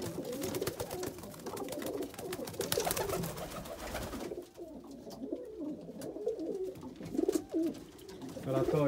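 Pigeons coo in a loft, soft throaty calls repeating close by over rustling and shuffling, with a voice speaking briefly at the start.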